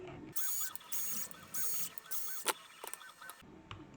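A driver undoes small screws to remove the spur gear of an Arrma Mojave RC truck, giving quiet ratcheting whirs in short repeated bursts followed by a few light metallic clicks.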